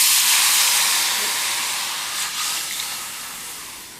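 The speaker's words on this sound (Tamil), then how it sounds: "தண்ணி கொஞ்சம் சூடாயிருச்சு." Water heating in a pan on the stove while cooking a spicy old-rice dish, giving a steady loud hiss that slowly fades over a few seconds, with no voices.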